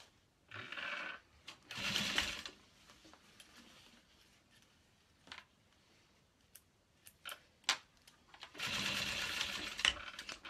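Sewing machine stitching a box stitch on a domed handbag: short bursts of fast mechanical whirring, separated by sharp clicks and handling taps, close and fairly quiet with no talking.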